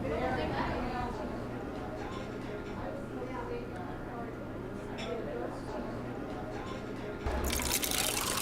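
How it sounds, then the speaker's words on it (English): Water is poured from a spout into a glass, a steady liquid fill with dripping textures, running under continuous talk. "if you pour from the spout, it is easy to control the flow"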